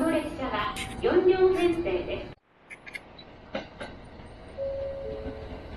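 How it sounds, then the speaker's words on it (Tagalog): A Shinkansen bullet train at a station platform in Fukuoka: a loud rush and rumble of passing cars that drops away abruptly, followed by quieter station ambience with a few clanks and a faint tone, while people talk over the first part. "Yan yung mga train, no? Yan yung mga sinasakyan namin."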